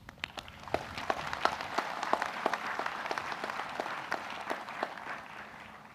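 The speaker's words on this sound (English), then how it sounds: "Let's clap for them too." Graduation ceremony crowd clapping for the graduates' families, a moderately distant round of many hands with a few sharp nearby claps standing out in an uneven rhythm, no talking.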